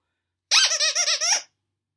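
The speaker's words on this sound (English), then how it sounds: "this is a little squeaky cauldron" A squeaky plush dog toy shaped like a cauldron, with a squeaky ball inside, gives one long wavering squeal made of several quick pulses, loud and close, surrounded by silence.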